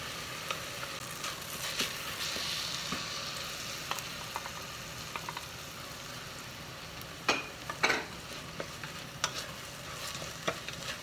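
Onion turned translucent sizzles steadily in a pan as rice is added and stirred in, with a constant frying hiss and scattered scraping strokes of a utensil, a few louder bursts near the end; no talking.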